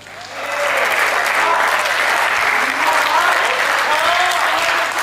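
Crowd applause at a Hindi kavi sammelan poetry recital, building quickly after a brief start into a dense, sustained roar of clapping that stays loud and even to the end, with no voices standing out above it.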